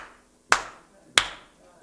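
Three sharp hand claps ring out alone and close, spaced a little over half a second apart, keeping time with a song at a Sunday service, each snapping crisply and decaying quickly.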